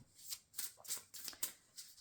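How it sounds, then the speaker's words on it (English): Tarot cards being shuffled in several quick riffling bursts, crisp papery flutters spaced about half a second apart, close and fairly quiet. "Let's just shuffle the cards a moment"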